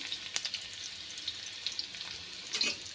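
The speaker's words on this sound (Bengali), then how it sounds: "তো আমি রসুন দিয়ে দেবো ফোড়ন দিয়ে। এটা শুকনো লঙ্কা" Garlic and dried red chilli frying in hot oil for a tempering, a close, steady crackling sizzle with small sharp pops scattered through.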